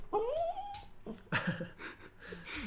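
A pet dog lets out a rising, high-pitched whimper, followed by snuffling breaths and softer whines, close and fairly quiet.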